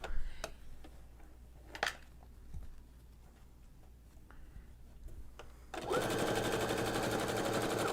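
A home sewing machine fitted with a hemming foot sits mostly quiet with scattered ticks and clicks, then starts stitching near the end with a loud, steady rapid whir.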